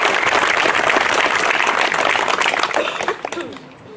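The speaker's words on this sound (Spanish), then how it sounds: "pido un fuerte y caluroso aplauso" A crowd at a local municipal gathering in La Morena, Mexico, gives loud, sustained applause. Dense clapping fills most of the stretch, then eases and trails off near the end.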